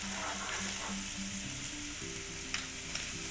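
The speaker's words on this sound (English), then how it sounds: "add the onion and fry the onion for a minute or two" Onion frying in a pan for a black pepper sauce gives a steady, close sizzle, with faint music playing underneath.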